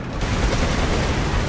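Dense, continuous gunfire and explosions from the World War II tank game Codename: Panzer, a loud, unbroken barrage filling the whole moment with no talk over it.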